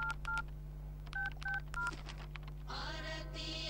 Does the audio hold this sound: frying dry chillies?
no